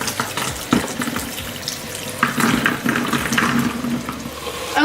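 Soaked haricot beans being drained for Turkish bean stew, water pouring and splashing loudly into a sink in a steady rushing stream with a few clunks near the start.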